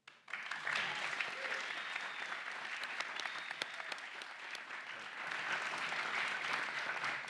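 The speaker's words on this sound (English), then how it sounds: "Crowd applause." A crowd applauds at the RTS Devon and Cornwall Student Awards 2025. The clapping starts abruptly and holds at an even, moderate level to the end, heard from some distance.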